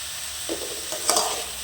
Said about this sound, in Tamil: இது கொஞ்சம் நேரம் நல்லாவே வதங்கட்டும்